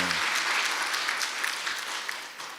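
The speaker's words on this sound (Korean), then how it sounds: "박수 한번 쳐주세요." Audience applause at a Korean talk-concert event, a dense, steady wash of clapping filling the whole moment without pause.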